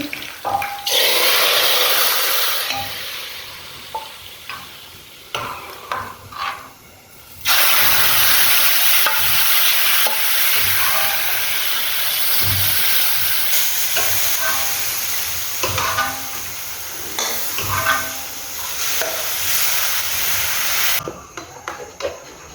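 Garlic, ginger and green chili are tempered in hot oil for a lentil dal, producing a loud, hissing sizzle that surges and drops in bursts, with a sharp flare midway and brief quieter gaps.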